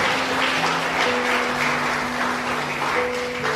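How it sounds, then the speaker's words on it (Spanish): A church congregation claps for Jesus during a Spanish-language sermon, a dense, continuous wash of applause heard at a steady level throughout, with a sustained organ or keyboard tone underneath. "Déale fuerte palmas a Jesucristo, que Él se lo merece."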